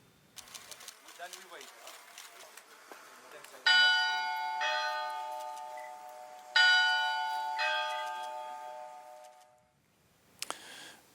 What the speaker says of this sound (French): des cloches ont commencé à sonner. On écoute celle installée en mars dernier.